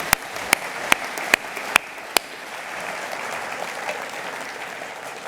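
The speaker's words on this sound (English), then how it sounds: "we can give him a round of applause now to welcome him on stage" An audience at a Bournemouth event applauds to welcome an agriculture spokesman onto the stage. A few sharp, distinct claps open into a steady wash of clapping that fills the room.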